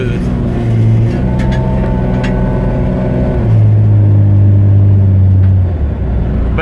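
A Jeep XJ Cherokee engine runs and drives after a transmission fluid change, its steady hum rising and dropping as the automatic transmission shifts smoothly, heard close and alone.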